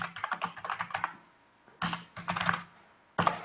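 Quick bursts of keystrokes on a computer keyboard, close and crisp, in three short runs separated by brief pauses, with no voices.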